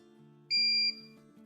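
A homemade short-circuit tester built from a buzzer, battery, resistor and LED sounds one steady, loud electronic beep lasting about half a second, standing out against a faint low hum.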